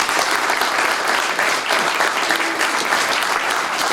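Sustained applause from a large audience at a political rally, dense clapping that stays loud and even for the whole stretch.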